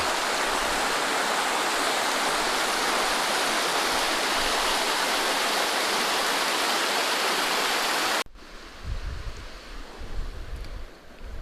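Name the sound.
flowing stream water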